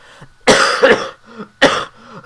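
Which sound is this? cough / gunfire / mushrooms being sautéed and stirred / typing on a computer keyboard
cough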